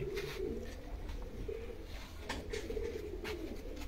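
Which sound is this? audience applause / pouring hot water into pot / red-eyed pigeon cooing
red-eyed pigeon cooing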